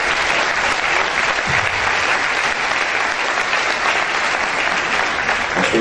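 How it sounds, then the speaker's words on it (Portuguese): Sustained, dense applause from a large church congregation fills the whole stretch, steady and loud throughout with no pauses. "Vamos aplaudir a Jesus."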